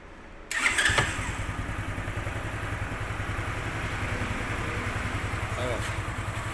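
A Kuba Kristal 50cc motorcycle engine fires up after a short quiet moment, then settles into a steady, close, putting idle that runs to the end.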